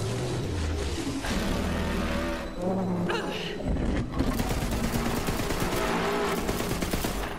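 An infinity pistol fires in Borderlands 3, its rapid shots mixed into loud, dense game combat noise that runs steadily throughout.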